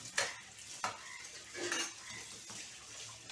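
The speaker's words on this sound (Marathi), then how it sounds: "कांद्याची पात टाकली मी ह्याच्यामध्ये आणि हलवून घेऊया" Mushroom chilli with chopped spring onion greens being stirred in a pan with the gas off, with a few sharp utensil scrapes and clinks over a soft residual sizzle.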